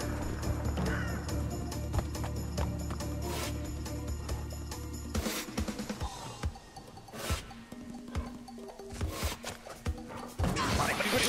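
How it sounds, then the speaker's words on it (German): Cawing bird calls from the Crash Bandicoot N. Sane Trilogy video game ring out in several sharp bursts over steady game music and effects. "Vögelchen."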